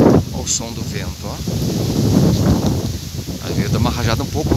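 A strong gust of wind rushes through trees in Porto Alegre on a windy day, with leaves rustling continuously under a man's close speech.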